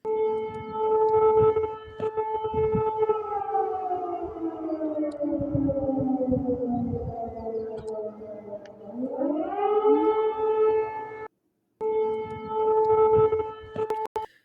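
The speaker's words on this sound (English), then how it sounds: "So air raid sirens going off in Russia, absolutely insane." Air raid civil defense sirens wail across a town in southwest Russia, a loud, distant rising and falling drone that sweeps down slowly, climbs back up, briefly cuts out, then resumes.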